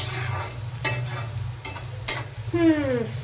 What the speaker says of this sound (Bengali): এই দেখো আমি এই যে পেঁয়াজটা ভাজছি